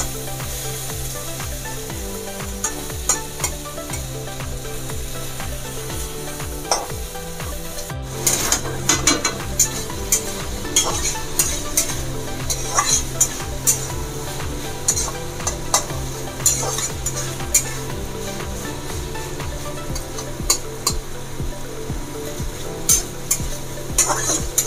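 Okra sabzi fries loudly in a pan, a continuous sizzle driven by quick, rhythmic stirring and scraping of the spoon against the metal, up close with no voices.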